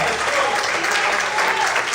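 A church congregation claps together, a loud, dense and even wash of applause sustained throughout with no break.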